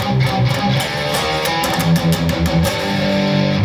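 Distorted electric guitar plays the extra tag added in the last chorus of a song, a dense, loud run of palm-muted chugs and sustained chords with no talking.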